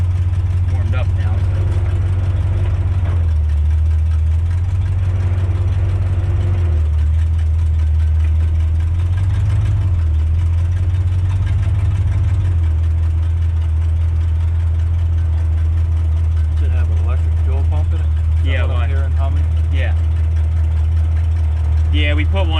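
A warmed-up 1947 Ford Coupe engine idles with a deep, steady rumble throughout, the revs briefly rising a couple of times while people talk nearby.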